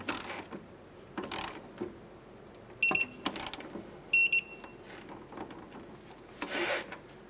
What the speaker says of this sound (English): Let's torque our lower clevis nut here to 47 foot-pounds.